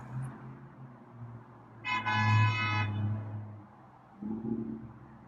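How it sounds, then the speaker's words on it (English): Night-time traffic passes outside, a low steady rumble of vehicles with one brief horn-like tone rising over it partway through, heard from a distance. "Traffic's noisy tonight."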